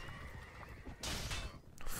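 A horse in a medieval combat video game lets out a short whinny and neigh, with hoof clip-clops and faint battle noise around it.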